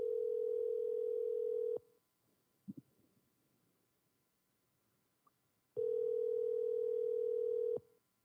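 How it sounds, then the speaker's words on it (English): A steady telephone tone sounds for about two seconds while calling a U.S. Senate office, cuts to near silence with a faint click, then the same tone returns for another two seconds. "We're calling Senator Chris Murphy's D.C. office right now."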